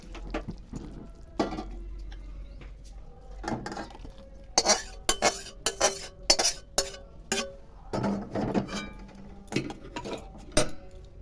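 Bhola fish curry is served out of a pan with a series of metal spoon scrapes and clinks against the cookware, close and irregular, clustering into a busy run in the middle.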